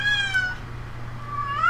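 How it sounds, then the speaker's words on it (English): A house cat meows twice, a short rising call followed by a drawn-out one, moderately close in a quiet room with a faint steady hum of computer equipment. "I have a cat that is going to drive me absolutely freaking insane."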